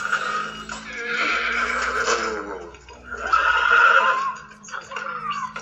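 A horse in a video game (The Last of Us) whinnies loudly twice, long drawn-out neighs with a shaky, wavering pitch, close and clear over a quiet background.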